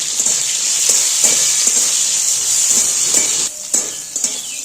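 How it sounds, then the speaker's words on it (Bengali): Bitter gourd slices frying in a pan with a little salt, cooked for shukto, give a loud, steady sizzling hiss that carries on without a break, easing slightly near the end with a few small crackles. "উচ্ছেগুলো যে কেটে রেখেছি উচ্ছেগুলো ভেজে নেব লাল করে উচ্ছের মধ্যে সামান্য একটু নুন দিয়ে দেবো"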